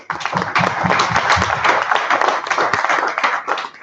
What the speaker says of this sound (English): A huge round of applause once more.